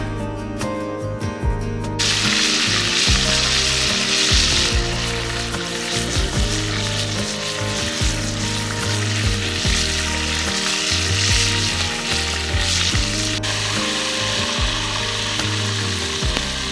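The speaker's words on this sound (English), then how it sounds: "Lance has been frying bacon" Bacon sizzles loudly and steadily in a pan at a makeshift hunting camp, with a dense crackling hiss that runs without a break and a low rumbling layer underneath.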